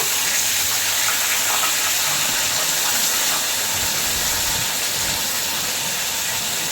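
Katla fish heads sizzling in hot oil in a pan, a loud, continuous broadband hiss and crackle that holds steady from start to finish.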